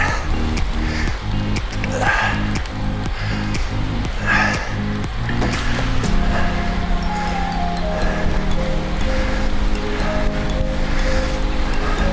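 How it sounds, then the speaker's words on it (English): A strong headwind buffets a road cyclist's microphone as a loud, continuous low roar, with a steady engine-like hum joining midway. "Yikes, that's a headwind."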